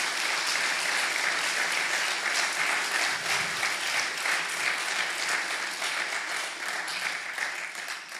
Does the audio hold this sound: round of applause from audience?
yes